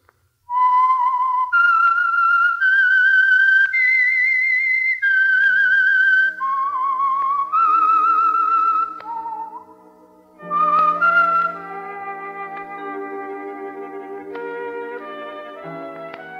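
A lone whistled melody rises and falls in clear sustained notes, then gives way to a soft orchestral passage as the opening theme of the old radio mystery program The Whistler.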